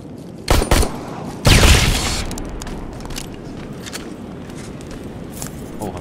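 Gunfire in the video game Terminator Resistance: a quick pair of sharp shots followed by a heavier, longer burst, loud and close, then fading into quieter background game noise.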